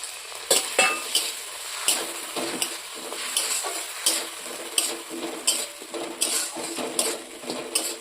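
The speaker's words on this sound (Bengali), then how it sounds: "এবারে মশলাটাও আদাটাকেও হালকাভাবে ভাজলাম" Ginger paste and spices frying with a splash of water in a pan, a steady close sizzle broken by repeated scraping stirs of a utensil against the pan, no voices.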